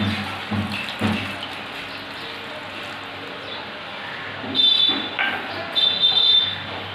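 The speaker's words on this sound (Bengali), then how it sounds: "আর এই পাটি ধোয়া জলটা দিয়ে দিচ্ছি" Water used for washing is poured into a cooking pot from close by, sounding as a steady watery rush with a few louder splashy bursts near the end.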